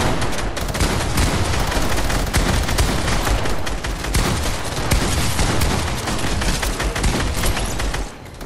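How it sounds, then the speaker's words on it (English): Dense, continuous gunfire from a Fortnite match, loud and close, with overlapping rapid bursts and shots rattling almost without pause for the whole stretch, easing briefly only at the very end. "God, that is all I'm hearing is bullets right"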